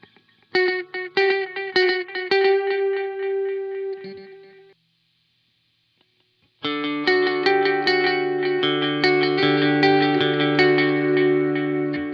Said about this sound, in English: if you flip between these modes and you have the repeat rate all the way up, you're going to get different repeats.